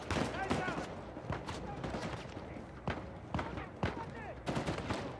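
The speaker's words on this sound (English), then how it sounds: "No, I'm getting shot at from both sides." Shots crack from several directions in Uncharted 4 combat, sharp bursts scattered throughout while someone talks over the gunfire.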